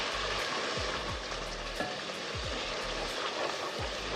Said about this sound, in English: Then I keep frying.